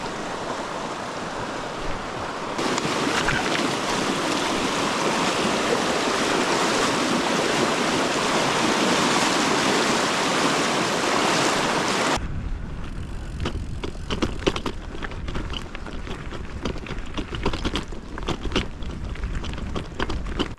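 Fast stream water rushes loudly as bikes are waded across a creek in the Front Range Rockies, a constant roaring wash that shifts midway to closer, choppier splashing and gurgling, no voices.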